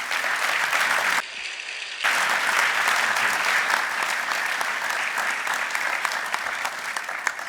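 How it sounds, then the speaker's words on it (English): Applause from guests at a formal lunch honoring the President of France, steady and full-bodied from a sizeable room, with a short dip partway through before the clapping swells back and continues evenly. "everyone here will join me in applauding the historic progress that you and President Trump are making for both our peoples"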